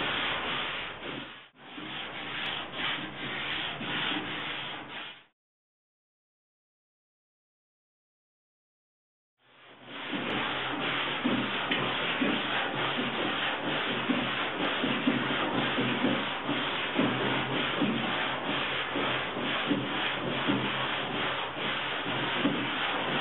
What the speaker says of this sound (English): After I'm done sanding the top half, take off the tape